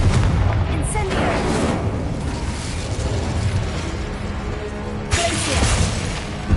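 Confringo and Incendio spells fired in the Hogwarts Legacy video game, a dense rumble of booming blasts and fiery bursts with two louder hits near the start and end, heard under a player shouting spell names.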